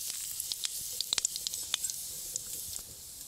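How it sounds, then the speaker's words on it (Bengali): Cumin seeds and bay leaves tempering in hot oil in a kadai: a soft, continuous high hiss dotted with sharp little pops and crackles, close and fairly quiet. "কড়াইতে জিরে আর তেজপাতা ফোড়নের জন্য দিয়ে দেব।"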